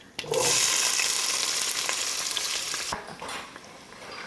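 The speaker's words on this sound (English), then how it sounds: "When it's popping, you are going to add 1 cut onion, about 4 cloves of garlic, 1 jalapeno chopped." Chopped onion, garlic and jalapeno hit hot oil with a loud sudden sizzle, a bright crackling hiss that holds steady and then eases slightly toward the end, with some stirring.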